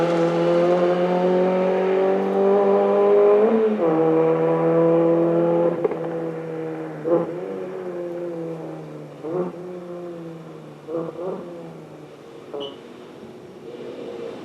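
A Citroen C2 VTS rally car at the 2021 Lombard Rally in Brunton revs hard with a steady, buzzing engine note. The sound then fades as it moves away, broken by sharp blips and gear changes.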